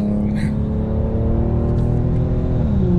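Loud, steady exhaust drone from an Infiniti Q50 3.7 with its muffler deleted, cruising at speed, a deep throaty hum with a brief faint voice in the background.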